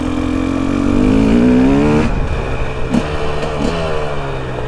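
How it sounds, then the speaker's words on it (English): A carbureted KTM 300XC two-stroke dirt bike engine grunts at low revs, loud and close, with a steady throbbing rumble that rises slightly then settles into an uneven idle-like chug with occasional blips. "See it just grunt down low, and it's carburetor, it's simple."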